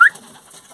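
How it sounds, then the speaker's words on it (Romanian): Pigeons at a loft being fed bread: a single short, close coo at the start, followed by faint background hush. "Acum dau niște pâinică la porumbei"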